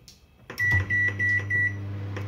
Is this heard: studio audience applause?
no